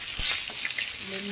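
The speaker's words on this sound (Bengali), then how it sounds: "সব মাথাগুলো এতক্ষণ ধরে আমি ভাজলাম, আস্তে আস্তে একটু একটু করে লাল লাল করে।" Fish heads hiss and crackle as they fry in hot oil, a steady close sizzle across the whole moment with a brief utensil knock near the start.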